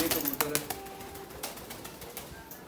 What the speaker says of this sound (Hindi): ये है कबूतर, मैं छोड़ के भी दिखा देता हूँ आपको